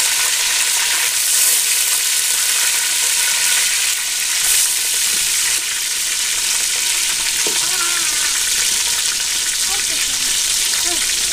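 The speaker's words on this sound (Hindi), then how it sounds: "और इसमें डालेंगे जी मछली" Fish frying in very hot ghee over a high flame makes a loud, continuous sizzle with bubbling spatter and occasional clinks of stirring, heard close up throughout.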